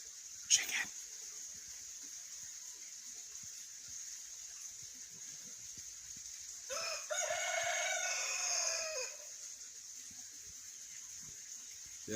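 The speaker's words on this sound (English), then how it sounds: "2 roosters in the hen house." Barred Rock roosters crowing inside a hen house, one drawn-out crow rising from a quiet background with a brief clatter near the start, fairly distant and alone without talk.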